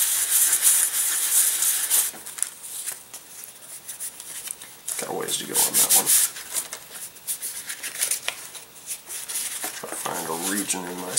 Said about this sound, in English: sanding the blades down really, really thin